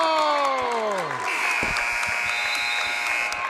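A gymnasium buzzer at a boys' high school basketball game between Ellenville and Fallsburg blares long and loud to end a period, over a cheering crowd and an excited commentator's voice.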